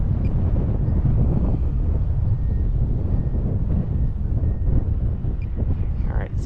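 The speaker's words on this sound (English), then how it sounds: "Wind coming up over that." Strong wind buffets the microphone on a grass cliff where an RC glider is flown, making a loud, continuous low rumble and roar throughout.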